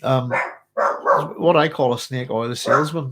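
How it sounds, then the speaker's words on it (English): A dog barks and yips excitedly in the background, partly masked by a person talking steadily in the foreground. "that's my dog going a bit nuts there, folks."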